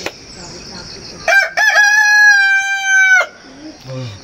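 A white rooster crows once, close and loud, a sustained harmonic cock-a-doodle-doo lasting about two seconds, preceded by faint clucks and followed by quieter farmyard sounds.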